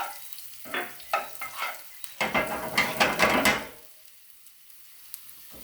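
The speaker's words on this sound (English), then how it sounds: "So we do all of that being chopped. Finally, and give that a nice stir around." Chopped garlic fries in a pan for a mung dal dish while being stirred, giving a close series of scraping strokes over sizzling oil that swells to a dense burst, then settles to a quiet hiss.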